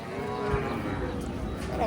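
A three-month-old crossbred calf lows at a busy cattle market, a drawn-out moo rising from steady crowd chatter and background market noise.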